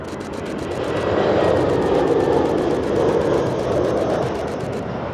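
A Qatar Airways Airbus A350 jet airliner flies past in a loud, sustained engine roar that swells and holds steady without talk.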